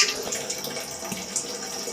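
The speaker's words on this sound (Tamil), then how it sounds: "மறுபடியும் பாத்திரத்தில் வேற ஒரு தண்ணி நல்ல தண்ணி சேர்த்து மறுபடியும் இந்த உருளைக்கிழங்கை ஒரு முறை அலசி எடுத்துக்கலாங்க" Potatoes are rinsed in a pot of fresh water for French fries, giving soft, close splashing and swishing water sounds without speech.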